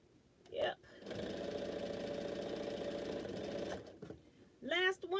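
A sewing machine runs in a steady burst of about three seconds while stitching quilt blocks, a close, even mechanical whir, with a voice speaking briefly before and after it.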